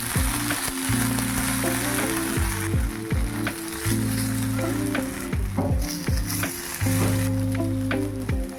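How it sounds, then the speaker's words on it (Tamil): Raw banana slices frying in a pan for a Tamil vazhakkai varuval, giving a loud, continuous close sizzle with bursts of bubbling and occasional stirring scrapes, no voices. "இப்போ 2 சைடும் திருப்பி போட்டு வேக வச்சுக்கலாம்."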